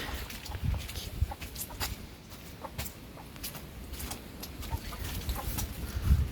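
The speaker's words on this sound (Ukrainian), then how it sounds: "Кури." Chickens cluck repeatedly, a scattered group of short calls over steady outdoor noise, fairly close.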